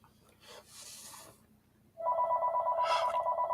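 A telephone ringing, a sharp electronic ring tone that starts abruptly and repeats in a fast warbling pulse after a brief muffled rustle, close and fairly loud.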